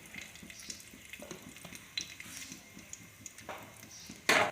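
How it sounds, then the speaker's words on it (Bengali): Whole cumin seeds fry in hot white oil in a wok, giving a soft, steady sizzle with faint stirring clicks and a sharper crackle at the end. "তেলের মধ্যে গোটা জিরা ফোড়ন দিয়ে দিব।"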